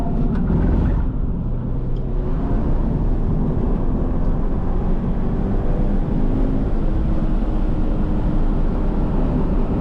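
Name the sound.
Subaru BRZ 200 hp 2-liter flat-four engine on track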